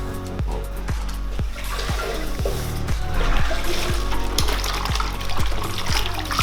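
Water splashing and trickling as a grout sponge is rinsed out in a bucket during shower tile grouting, with a series of regular low thumps under continuous close wet sloshing.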